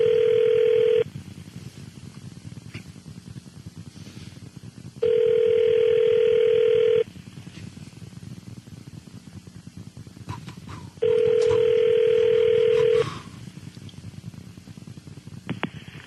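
A telephone rings back during an outgoing call to a business line: three evenly spaced two-second ring tones with longer pauses between them, loud and alone over a low hum.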